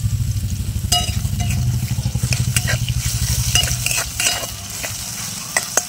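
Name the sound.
curry leaves sizzling in hot oil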